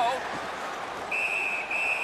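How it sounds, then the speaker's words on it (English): A referee's whistle in the NHL 18 ice hockey video game sounds as a sustained shrill tone over arena crowd noise, cutting in partway through, with a voice speaking underneath. "A whistle and a rest."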